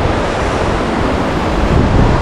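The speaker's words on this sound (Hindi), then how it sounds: "पानी में जब हवा आती है ना, बहुत तेज लगती है" A loud, continuous roar of strong wind mixed with surf at Arambol Beach, Goa, with no talking.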